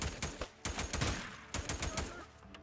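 Rapid bursts of gunfire ring out in a Days Gone firefight, with clustered shots in quick volleys, loud and close, separated by short pauses.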